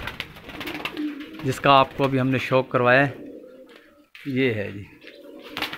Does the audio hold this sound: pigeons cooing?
yes